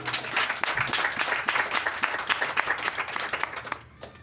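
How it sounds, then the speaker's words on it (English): A church congregation claps together during a thanksgiving service, many hands beating in a fast, dense, continuous patter that holds steady and close, then cuts off abruptly near the end. "Clap for Jesus"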